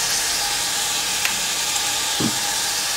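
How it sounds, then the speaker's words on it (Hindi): Vegetables frying in a pan for dalia khichdi, a dense steady hiss close up, with one brief stir or scrape near the end. "अब हम इसे फ्राई कर लेंगे सब्जी को, एक मिनट हम इसे फ्राई करेंगे।"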